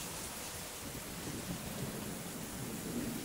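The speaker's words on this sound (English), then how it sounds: "At least the plants are getting a nice rain." Steady, heavy rain pours down in a dense hiss, with a low rumble of thunder rolling underneath throughout.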